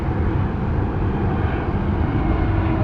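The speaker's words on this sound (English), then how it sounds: "There's a jet going over." A jet airplane passing overhead above a South Florida canal, a steady loud broadband roar that holds for the whole stretch with no voices.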